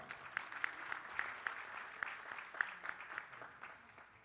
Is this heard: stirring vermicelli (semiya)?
no